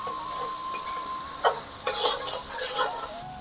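Spice paste of poppy seeds, chilli powder, Kashmiri chilli powder and salt sautéing in a pan, with a steady sizzle and several sharp scraping stirs of a utensil against the pan.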